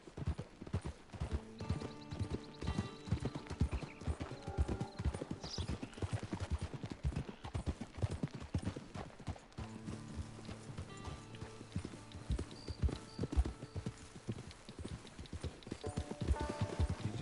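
Horse hooves clip-clop steadily in Red Dead Redemption 2, a brisk even rhythm of close hoof beats on the trail with game music and ambient sound underneath, no voices.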